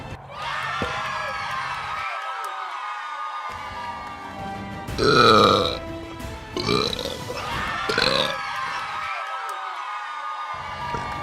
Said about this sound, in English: Here's my burp.